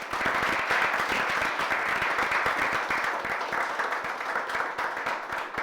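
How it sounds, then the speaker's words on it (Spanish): A church congregation applauds, a dense, continuous wash of clapping holding steady at an even level throughout. "Dale un aplauso a Jesucristo."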